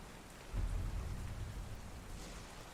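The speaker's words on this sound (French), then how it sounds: "Une nuit de pluie." Steady rain hissing while a low rumble of thunder rolls in and lingers, soft and muffled throughout.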